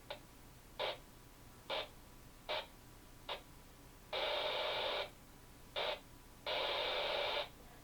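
CB radio on the 11-metre 27 MHz band tuned through a portable magnetic loop antenna by adjusting its variable capacitor: short bursts of hissing static break the squelch, several brief ones and two longer roughly one-second rushes, with quiet between them.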